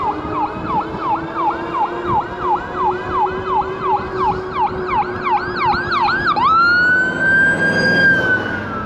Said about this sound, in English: It's an ambulance right here.